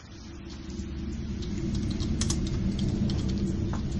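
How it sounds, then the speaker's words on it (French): Someone types on a computer keyboard, with soft, irregular key clicks sitting over a low, steady rumble of background noise and no voices. "On peut également voir ce qu'elle est en train de taper sur son clavier"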